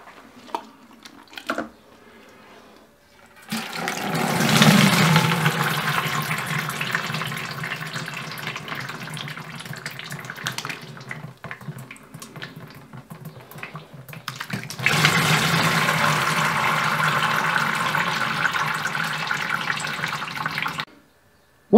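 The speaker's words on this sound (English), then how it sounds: "use a coarse colander and just use a jug to bale the fruit from our infusing vessel into a clean," Strawberry wine must is poured with a jug through a coarse colander into a vessel. Two long, close bursts of splashing liquid pouring are separated by a quieter stretch, with faint drips between them.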